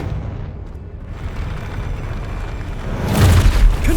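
Confringo blasting spell in Hogwarts Legacy, a wizarding video game: a low rumble builds, then a loud booming explosion bursts near the end, heavy and close, with no talk.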